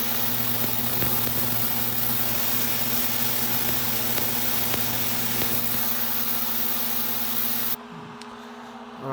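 An ANBULL ultrasonic cleaner runs with a steady, loud electrical hum and a high hiss, then cuts out abruptly near the end and leaves a quieter background.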